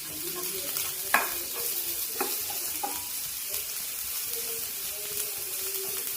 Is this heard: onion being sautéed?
yes